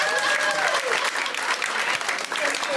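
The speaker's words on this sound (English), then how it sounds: "Round of applause, South Korea." Loud, sustained applause from a large audience, dense clapping throughout with cheering voices mixed in.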